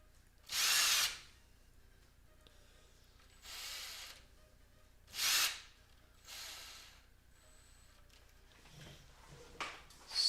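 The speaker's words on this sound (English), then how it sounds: "I'm going to use the drill to make it quicker." A cordless electric drill driving screws into a D-0 droid build, in several short loud whirring bursts separated by quieter pauses, close by and with no talking.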